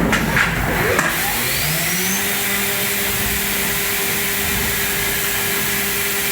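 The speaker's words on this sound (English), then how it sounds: "Now we run the 1/8 inch tool." A machining center cuts with a 1/8 inch tool under flowing coolant, with a loud steady whirring hum and spindle whine that stays constant after a brief clattering start.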